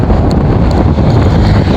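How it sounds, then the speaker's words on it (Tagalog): Strong wind buffets the microphone outdoors at Brgy Pinamarbuhan, Mobo, Masbate, a loud, continuous low roar that fills the short stretch with no voices. "Malakas ang hangin ngayon, guys."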